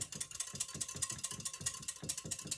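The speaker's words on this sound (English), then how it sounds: "give that a little whisk" Dressing of apple cider and rice vinegar with Worcestershire sauce whisked briskly in a bowl, a quick, regular series of light metallic clicks and scrapes, close and fairly quiet.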